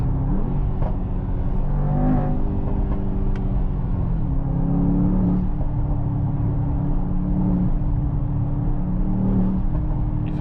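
A Mercedes-AMG GT 63 S E Performance hybrid runs on throttle with a low, steady engine drone and shifting tones, plus faint brief whooshes, heard from inside the car.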